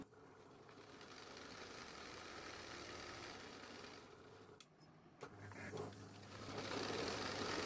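A sewing machine stitches a kurti seam with a continuous, fast, even whir of needle strokes, close up. It breaks off briefly with a few clicks, then starts running again.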